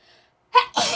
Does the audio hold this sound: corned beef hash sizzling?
no